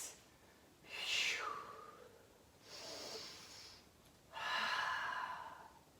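A person exhales during a gentle resistance band exercise: three soft, breathy breaths at a slow, even pace, fairly close but quiet, with no speech over them.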